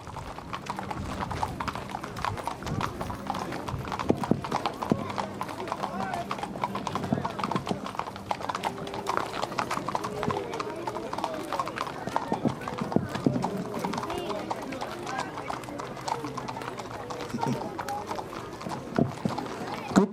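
At the Crow Fair parade, many horses ridden by young boys and girls clip-clop continuously on pavement in an uneven, overlapping rhythm, with an announcer talking over the hoofbeats.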